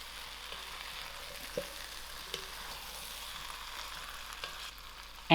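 Vegetable curry sizzling steadily in a pot as it is stirred, a soft continuous fry hiss with a few faint clinks of the spoon against the pot and a louder knock at the very end.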